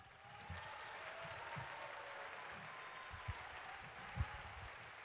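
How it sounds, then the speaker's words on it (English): Audience at a candidate forum gives the candidates a round of applause, a soft, steady patter of clapping from the room with a couple of sharper thumps nearby. "please join me in giving both candidates a big round of applause"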